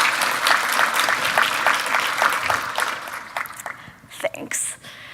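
Loud clapping from a conference audience, a steady patter of many hands that fades out after a few seconds, followed by scattered brief noises.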